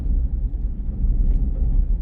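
Ford F150 pickup on a snowy winter road, a low steady rumble of engine and tires as the truck slows under braking, close and continuous with no talking.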